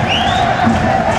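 Spectators at an ice hockey game between ECN and Löwen Frankfurt roar in a steady, dense crowd cheer, a continuous wash of voices and whoops filling the arena.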